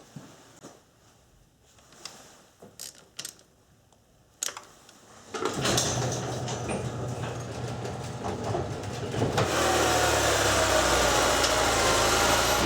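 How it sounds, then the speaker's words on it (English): Honda S2000 engine idling while coolant is bled after radiator and thermostat work, starting with scattered clicks and knocks, then a steady mechanical hum that swells into a loud, broadband rush from about five seconds on. "Now as the vehicle is running"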